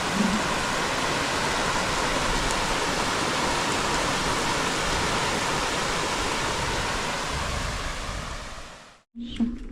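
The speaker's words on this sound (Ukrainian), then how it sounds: "Хочеться послухати дощик." Steady, dense rain pouring down for several seconds, a broad hissing wash that fades out near the end, leaving a brief quieter moment.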